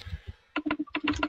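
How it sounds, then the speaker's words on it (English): Rapid clacking of computer keyboard keys during online Minecraft play, in quick irregular bursts, close and fairly clear, with a short pause between runs of typing. "All I hear right now is Mike's keyboard."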